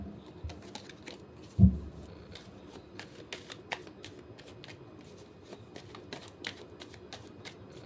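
Tarot cards being shuffled by hand at close range, a steady run of soft crisp riffles and slaps with one louder thump near the start, alone without talk.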